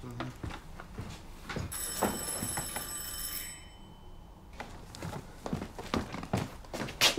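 An old telephone rings in a workshop apartment, a bright rattling bell burst lasting about two seconds, heard over footsteps and thumps, with brief talk before and after.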